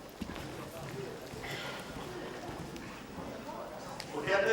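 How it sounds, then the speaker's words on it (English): A dressage horse performing passage in training, its hooves striking in a steady, rhythmic cadence at moderate distance over a busy arena background. "this, according to the seminars, is the world's best passage horse"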